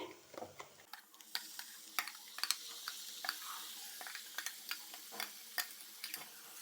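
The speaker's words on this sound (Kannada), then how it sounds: "ಈಗ ನಾನು ಈ ಮಾಡಿ ಇಟ್ಕೊಂಡಂಥ ಪುದೀನ ಪೇಸ್ಟನ್ನು ಸೇರಿಸ್ತೇನೆ" Mint paste sizzles in hot oil in a pan while a spoon stirs it, a soft steady hiss broken by light scraping clicks, heard up close without speech.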